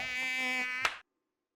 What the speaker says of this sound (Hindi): ये घर तो देख मच्छरों की धर्मशाला बन गया है।